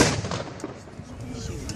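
Gunfire rings out at a WW2 battle reenactment at Dover Castle, with rapid distant shots and booming reports echoing over crowd noise.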